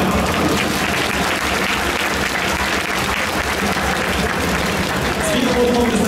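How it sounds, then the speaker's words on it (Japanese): Audience applause for the challengers at a Chunichi Dragons speed ball pitching contest in a ballpark, steady dense clapping throughout, with crowd murmur and an announcer's voice faintly mixed in. "5人のチャレンジャーの皆様に大きな拍手を送りください。"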